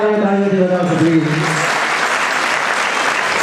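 Audience applause greeting performers at a Saurashtra Trivedi Mevada Brahman community stage event, a loud, steady clapping that builds over a brief musical tone at the start and continues dense to the end.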